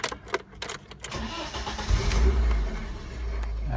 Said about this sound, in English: if I fire this up, just need to turn off the immobiliser